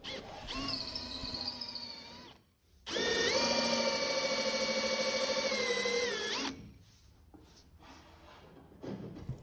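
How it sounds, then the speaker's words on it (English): A power drill bores a hole through a kayak's end pour for a carry handle, whining in two close bursts, a short spin-up then a longer steady run, before winding down. "I'm drilling a hole through the end pour for the carry handle."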